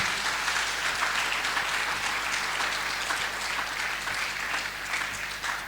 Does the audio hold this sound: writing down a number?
no